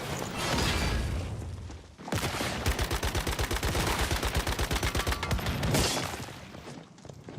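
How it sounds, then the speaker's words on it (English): Gunfire in the video game Once Human: a loud rolling volley of shots, then a rapid rhythmic burst of automatic fire, close and continuous with no talk over it. "You can't shoot them like that."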